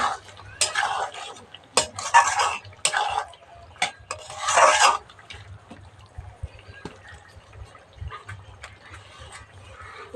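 Chicken curry with curry leaves stirred in a pan, a spoon scraping and clinking against the metal in several bursts during the first half, then quieter occasional scrapes with a low background hum.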